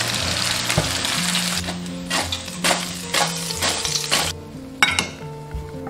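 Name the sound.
pumpkin pieces deep-frying in hot oil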